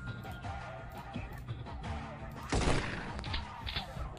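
Gunfire in the X-COM Files video game, a loud burst of shots standing out against a busy background of game sounds, with a faint voice in the mix.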